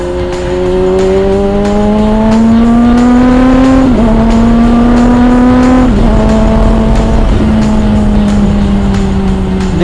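A big bike motorcycle engine revving hard toward 14,000 RPM, a very loud close high-pitched wail that climbs steadily, dips briefly at gear shifts and keeps screaming for the whole stretch.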